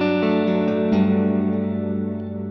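A strummed chord on a Godin Multiac Steel acoustic guitar rings out with a lush, echoing wash of dotted-eighth tape delay and reverb that slowly decays.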